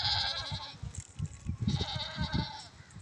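Goats bleat on a farm in repeated nasal calls, fairly close, with soft voices faintly in the background.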